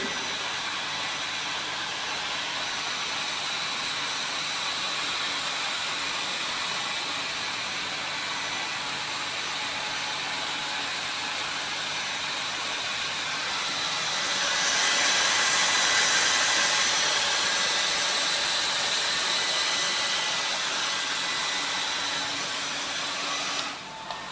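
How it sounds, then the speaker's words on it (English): A steady, loud blowing hiss of a hand dryer drying a brass lab specimen runs throughout, swelling slightly stronger partway through before settling back. "you have to dry the specimen using the dryer"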